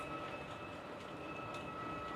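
A model train runs on an attic layout with a steady whirring rumble and a faint high whine, close and continuous with no talking.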